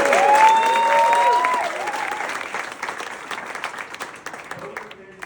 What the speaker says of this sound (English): quick round of applause for Jeff and Heather for helping make this wedding possible